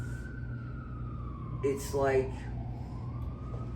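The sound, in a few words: emergency vehicle sirens passing in Brooklyn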